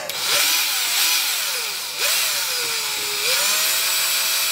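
A power drill-driven mixer whirs as it stirs a Chianti wine kit in a fermenting bucket, a continuous buzzing whine that repeatedly slows and speeds up in close, loud passes.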